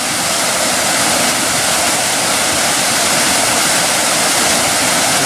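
An unnamed waterfall on Pounder Branch along the Sheltowee Trace roars loud and steady, a dense unbroken rush of falling water with no voices over it.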